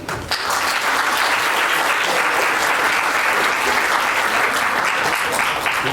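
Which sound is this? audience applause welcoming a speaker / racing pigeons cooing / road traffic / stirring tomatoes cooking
audience applause welcoming a speaker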